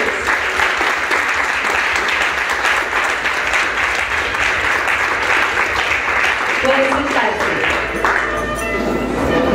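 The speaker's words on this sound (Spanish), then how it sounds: "un fuerte aplauso para Jesucristo y para ustedes" Sustained applause from a gathered crowd at a quinceañera ceremony, a dense steady clapping that runs throughout and thins toward the end, with a voice talking faintly over it.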